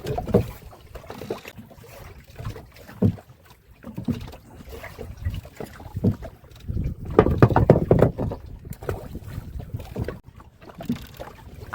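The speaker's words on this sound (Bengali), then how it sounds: "আমাদের নৌকা কিন্তু একদম পুরো ওই দ্বীপের মাথার দিকে যাচ্ছে" A wooden boat moves along a channel in the Sundarbans, with irregular water splashes, knocks and wind buffeting the microphone, louder bursts clustering in the second half.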